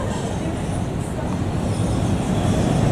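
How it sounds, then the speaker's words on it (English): A Lisbon funicular railway car rumbles along steadily, a dense low mechanical roar with no breaks or distinct clacks, loud and close throughout. "funicular"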